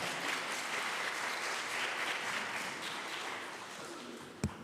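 An audience at a Polish oratory contest ceremony held in a castle applauds in a dense, sustained round of clapping that slowly fades, ending with a single sharp knock.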